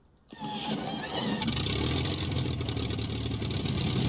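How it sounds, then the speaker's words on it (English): A Supermarine Spitfire Mk1a aircraft engine in a flight simulator game cranks and catches, then settles into a steady, loud running drone with a rough mechanical texture and no talking; the starting sound is buggy. "Let me do that again, start it, because there's also a bug in the initial starting sound."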